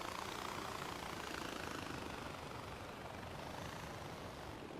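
Helicopter in the video game Far Cry 4, a continuous dense rotor and engine roar, loud and close, steady for the whole stretch with no talk.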